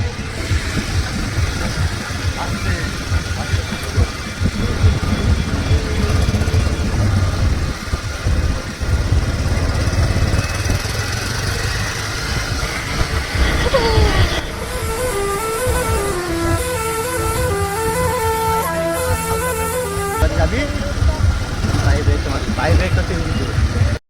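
A motorcycle's engine hums low and steadily in second gear while a learner rides. The engine stays under near-constant talking, and other tonal sounds join briefly partway through.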